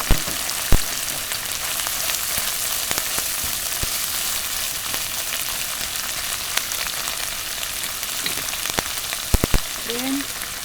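Shrimp paste, dried shrimp and garlic crackle in a hot pan in a continuous bright sizzle, broken by a few sharp clicks from stirring.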